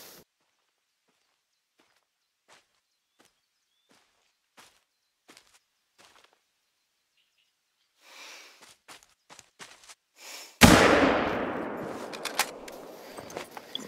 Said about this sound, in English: Take a breath, point, and shoot.